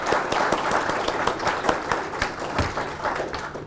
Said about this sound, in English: can we please take a second and applaud my parents?